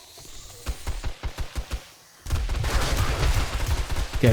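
Rapid gunfire in the 7 Days to Die zombie game, first a string of sharp separate shots, then a dense, loud burst of continuous firing and chaotic noise.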